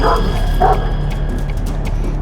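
An aggressive shepherd dog, chained and collared, lets out a couple of loud, close barks near the start, then quieter yips over a steady background hum.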